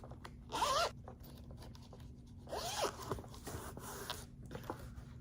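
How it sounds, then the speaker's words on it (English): Zipper on the soft pouch of a PS Portal travel case, opened in a few close, quick rasping pulls with small handling sounds between them. "you do also have a zippered pouch in this general area"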